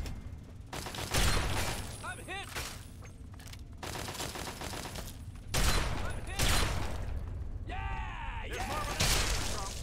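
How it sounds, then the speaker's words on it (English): Combat shotgun fire in the video game Fallout 3, with several loud, heavy blasts in bursts, pump and reload clicks between them, and whistling ricochet tones. "I love the combat shotgun."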